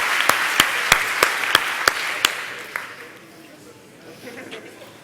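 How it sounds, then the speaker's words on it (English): Conference audience applauding in a meeting room, led by a run of sharp, evenly spaced claps close by over softer crowd clapping that trails off into faint murmuring. "Give yourselves a big round of applause to yourselves, all the speakers, all the organizers, everyone."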